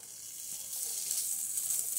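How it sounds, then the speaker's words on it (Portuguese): Bacon sizzles in a preheated pan, a steady close hiss of frying fat that swells slightly partway through, with no talk. "aqui panela já aquecida, vamos colocar o bacon."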